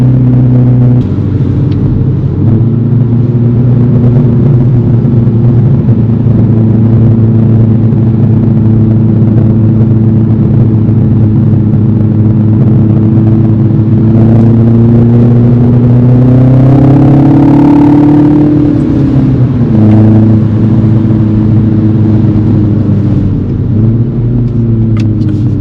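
A 2025 F66 Mini Cooper S drives steadily with a loud, close cabin drone of engine and road noise. The engine revs rise during acceleration, then drop back to a steady cruise.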